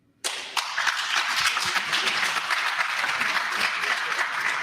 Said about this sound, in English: I thought you should be clapping.